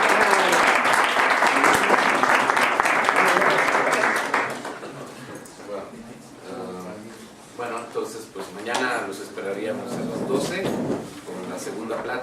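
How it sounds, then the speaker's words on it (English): Audience at a university science lecture claps for the assistants, a dense burst of applause for about four seconds that quickly dies away, followed by a speaking voice and scattered room noise. "Another applause for all the assistants."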